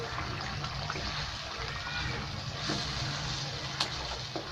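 Chopped onion stirred into tender cooked mutton korma in a pot, giving a steady wet, sloshing rustle with soft splatters throughout, fairly quiet and close, with no talking.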